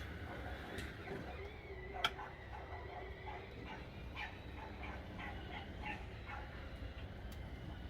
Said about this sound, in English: God, the dog.